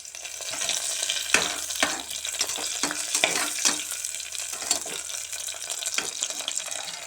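Onions and green chilli frying in oil for mushroom biryani, a steady bright crackling sizzle with occasional spoon knocks and stirring, close and constant.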